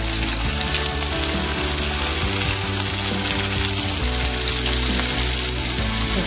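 Steak sizzling and frying steadily in a hot pan, a dense continuous crackle that stays loud and close for the whole stretch with no talking.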